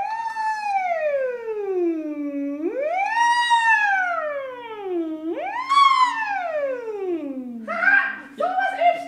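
A voice imitates a siren, singing repeated rising and falling wails like a discrete emergency siren, clear and close, ending with short vocal yelps.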